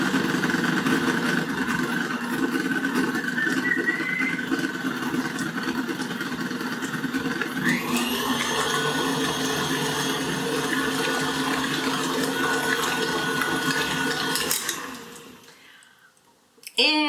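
An electric mixer whirs steadily through pumpkin cheesecake batter, a continuous close motor drone with a pitch shift partway through before it stops near the end.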